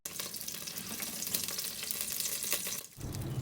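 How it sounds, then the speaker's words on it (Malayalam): Two sprigs of curry leaves sputter in half a cup of hot oil in a kadai, a dense close crackling sizzle that dips briefly near the end before resuming, with no talking. "എണ്ണ ചൂടായി വരുമ്പോൾ 2 തണ്ട് കറിവേപ്പില ഇട്ട് വറക്കാം."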